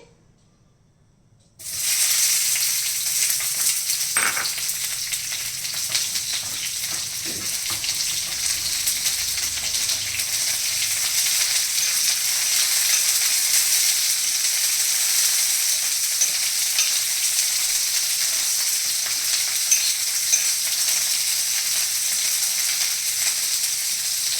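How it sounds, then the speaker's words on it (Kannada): Capsicum fries in a kadai for kadai paneer, a steady loud sizzling hiss that starts abruptly after a moment of quiet and continues unbroken, with occasional faint stirring knocks underneath and no talking. "ಇದನ್ನು ಕ್ಯಾಪ್ಸಿಕಮ್ನು ಫ್ರೈ ಮಾಡ್ಕೊಂಡ್ಬಿಡ್ತೀನಿ"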